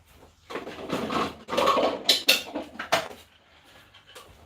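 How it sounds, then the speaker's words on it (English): A food processor is picked up and set down on a kitchen counter in several knocks and clatters of plastic and metal parts, close and fairly loud, with quiet gaps between bursts. "Now let me grab the food processor."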